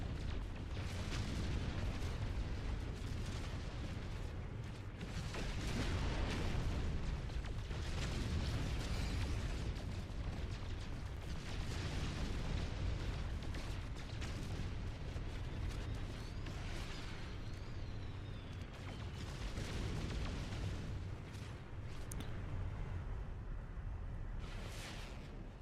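Asteroids are shot in the video game No Man's Sky, giving a continuous dense barrage of booming blasts and crackling bursts that stays loud and unbroken throughout, with no speech.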